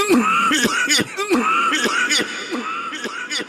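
Repeated coughs and throat-clearing bursts, about seven in quick succession, loud and close with a ringing, reverberant tail.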